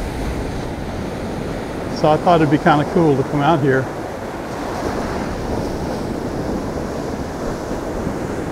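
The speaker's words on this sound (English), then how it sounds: "The waves are amazing." Storm surf breaks in a steady roar on a deserted beach, with wind rushing across the microphone. Someone speaks briefly over the constant noise of the waves.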